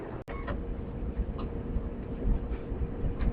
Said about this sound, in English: we on the Purple Line train